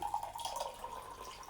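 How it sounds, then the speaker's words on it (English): Brief, quiet trickle of frankincense tea water being poured into a mug, a soft steady splash with no voices. "Be very careful to pour the water into the mug"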